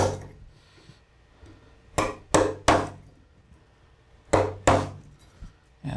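A mallet drives a huge 3 1/8 inch No. 7 carving gouge into wood to chop down the main form, giving sharp close knocks in small bursts: three strikes, a pause, then two more and a lighter one.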